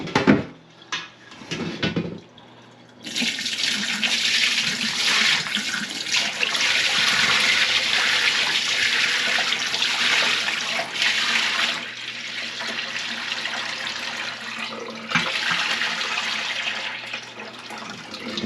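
Brine from homemade corned beef pours out in a steady, loud liquid stream, running continuously for most of the stretch after a few brief clunks and handling noises at the start, with no talking.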